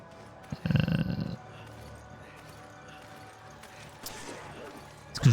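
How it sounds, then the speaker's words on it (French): A dog growls in the Resident Evil 5 video game, a rough low snarl in one burst followed by quieter game ambience and a faint later growl. "Oh le chien."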